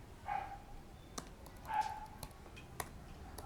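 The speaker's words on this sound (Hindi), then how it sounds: "यार डॉग प्लीज़ चुप हो जा" A dog gives two faint, distant barks about a second and a half apart indoors, with a few soft clicks and taps around them and no talking.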